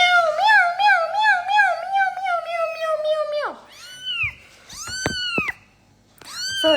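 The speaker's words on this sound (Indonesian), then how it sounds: "Meow." A cat meows repeatedly, close and loud, in a run of wavering cries followed by a few sharper, rising meows with short pauses between them.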